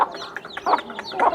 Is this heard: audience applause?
no